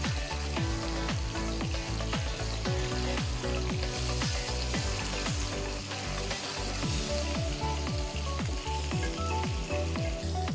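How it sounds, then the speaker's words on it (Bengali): Koi fish fry in hot oil, giving a dense, steady sizzle and crackle that stays loud and close throughout, with no talking. "অন্য পিঠও ভেজে নেব।"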